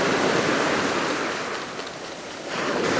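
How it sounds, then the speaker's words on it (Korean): Ocean surf breaks steadily along the coast off Uljin, a continuous rushing wash that eases slightly midway and then swells again, close and fairly loud with no voices. "확실히 파도가 많이 적었어."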